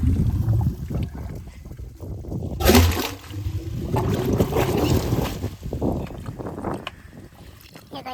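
Water gushes and splashes out of a farm pipe, mixed with spurting air, in a rough, uneven rush. A loud burst comes near the middle.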